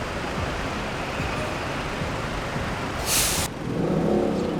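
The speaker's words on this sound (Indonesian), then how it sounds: "Ini bis Ramayana tujuan Jogja ini. Jet Bus 3" Beside a Ramayana Jet Bus 3 coach with a Hino engine, a steady broadband engine and traffic roar continues. A short, sharp hiss like an air-brake release cuts in near the end, followed by a deeper engine rumble.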